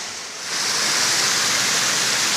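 Bromley Brook on the Vermont Long Trail rushes along in a dense, steady hiss of flowing water that swells up in the first half second, then holds close and loud.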